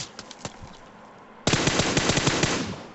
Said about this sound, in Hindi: मुझे लूट के इधर से निकलना पड़ेगा, क्योंकि मेरे पे गोलियां चल रही है